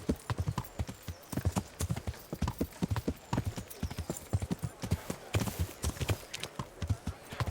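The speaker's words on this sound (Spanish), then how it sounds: "Es súper seguro esto de un tío cabalgando como un loco." A horse gallops in the 2018 video game Kingdom Come: Deliverance, with fast, rhythmic hoofbeats thudding steadily and close throughout.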